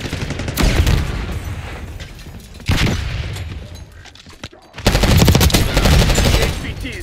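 Call of Duty Black Ops 6 gameplay erupts with loud bursts of automatic gunfire in two main volleys, the second one longer and denser, with booming impacts between them.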